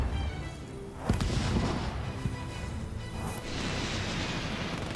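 Units in the real-time strategy game Halo Wars 2 fire on a main base, producing dense, continuous booming battle noise with heavy impacts and explosions, loud and sustained.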